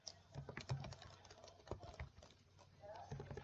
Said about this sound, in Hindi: मैं टाइपिंग कर रहा हूँ।